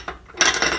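A knife clinks and scrapes against a plate while chocolates are cut, a few short close metallic contacts and rubs, quiet and without talk.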